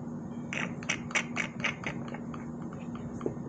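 A hand pump draws old fluid from a Honda Superhawk motorcycle's clutch reservoir, giving a quick series of soft rhythmic squelching, sucking strokes close by against a quiet background.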